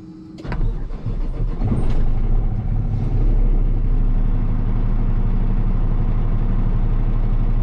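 A 2020 Kenworth T880 super dump truck's diesel engine cranks and fires, with a few sharp clatters and bursts before it settles into a loud, steady idle rumble close by.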